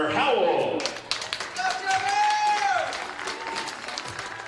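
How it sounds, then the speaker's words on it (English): Fans at a college baseball game between Sacramento State and Utah Valley clap and cheer for the senior players, a busy burst of applause that tapers off while an announcer's voice carries over the stadium. "Fans, please give these wonderful seniors from both teams another round of applause"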